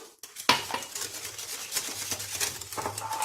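Cake batter for a layered orange cake stirred in a bowl after adding oil, a utensil scraping and clinking against the bowl in steady repeated strokes, close and fairly loud.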